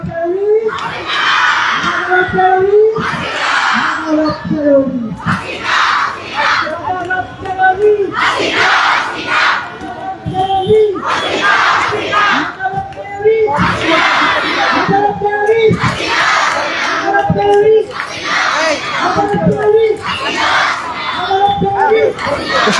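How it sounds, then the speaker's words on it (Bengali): A protest crowd at Shahbag square chants slogans in loud, rhythmic call-and-response bursts, about ten shouted phrases in a steady cadence separated by brief lulls. "আমি শুনতে পাচ্ছি এই মুহূর্তে কিন্তু তারা একটি স্লোগানে মুখরিত রাখছে"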